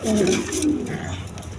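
Several big red-geared pigeons coo close by in a loft or market setting, low throaty rolling calls repeating over a faint background murmur.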